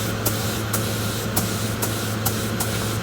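A Central Pneumatic paint sprayer sprays paint onto a chain cover, giving a steady, close airy hiss with faint regular clicks running through it.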